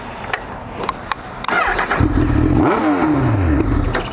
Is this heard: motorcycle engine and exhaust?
yes